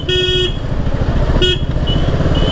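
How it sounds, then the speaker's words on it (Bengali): A vehicle horn toots twice at a lorry blocking the way into a bus stand, two short loud blasts about a second apart over a running engine. "হর্ন দিলেও যাচ্ছে না লরিটা"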